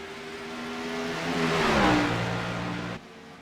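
Two race cars drag racing side by side up a hill, engines roaring loudly as they accelerate, the pitch climbing and swelling to a peak before easing off, close by with no talk.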